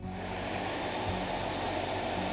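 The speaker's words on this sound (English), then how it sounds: "I'll hairdryer this again" A hair dryer blows on a layer of resin art, a steady, close, continuous roar of air holding at an even level throughout, with no talking.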